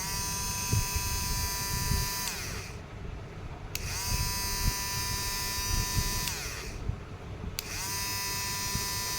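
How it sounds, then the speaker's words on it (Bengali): A garland bead cutting machine running smoothly, a steady high motor whine with harmonic buzz that rises and falls in repeated cycles, near and loud, with clattering mechanical noise underneath. "দেখো মেশিনটা চালাচ্ছি, কোনো প্রবলেম নেই, একটু কোনো টাল নেই, একদম সোজা ঘুরছে।"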